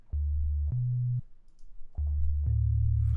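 Synthesizer sine wave tone: a pure, steady low pitch held in short notes that step between a few pitches with brief gaps and soft clicks between them, clean and close, with no voices.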